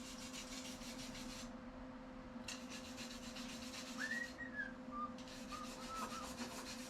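A weld on a Baja RZR chassis being cleaned with a power tool: a steady, close abrasive rasping with short breaks, over a constant motor hum, plus a few faint high squeaks. No talking.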